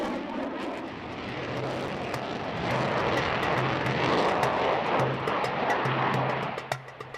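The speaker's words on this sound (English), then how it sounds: "The Typhoon flies like a dream." A Eurofighter Typhoon jet flying at a military air display, its engine roar building to a loud, sustained rush in the middle before fading away.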